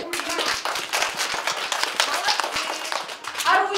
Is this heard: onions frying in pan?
no